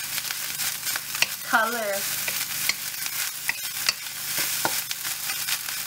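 Pork fried rice frying and being stirred in a pan, with steady sizzling and sharp spoon scrapes and clicks against the metal throughout, plus a brief warbling tone partway through.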